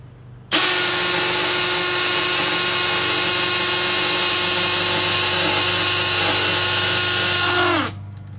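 A Milwaukee M12 Fuel 3404 cordless hammer drill whirs at a steady high pitch for about seven seconds, starting abruptly and winding down at the end, loud and close.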